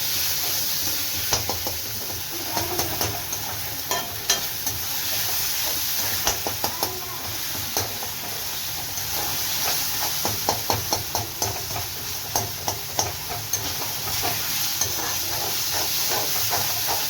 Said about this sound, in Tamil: இப்போ இஞ்சி பூண்டு பேஸ்ட்டு போட்டாச்சு. நல்லா வதக்கணும்.